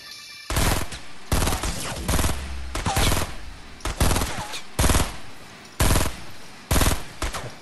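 Rapid gunfire in Fortnite, with loud, close bursts of shots from an automatic weapon repeating in clusters across the stretch and brief pauses between volleys.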